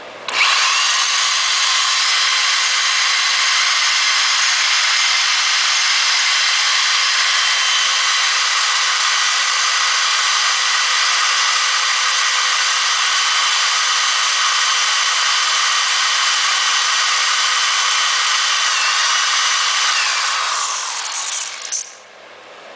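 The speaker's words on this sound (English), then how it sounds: "It is drilling decently fast" A power drill runs loud and steady for about twenty seconds, boring through metal with a cheap Harbor Freight 1/4 inch bit on a G-Body 10/12 bolt rear end during a brake upgrade, then winds down at the end.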